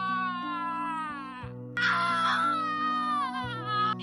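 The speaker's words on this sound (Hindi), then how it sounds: "अंदर से दर्द भरी चीख सुनाई देती है।" A pained, wailing scream from inside a room in a cartoon story, drawn-out high-pitched cries that break off and return louder, over a sustained low musical drone.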